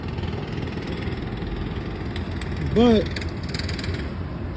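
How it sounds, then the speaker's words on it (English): New York City street on a foggy day: steady engine rumble and traffic noise with a brief rising mechanical whine in the middle, with a person speaking briefly. "Lo que nunca cambia es el sonido de la ciudad."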